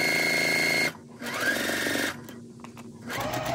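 Sewing machine stitching pieces of a Dresden quilt, a steady loud run that stops, then resumes in quieter bursts with short pauses between seams.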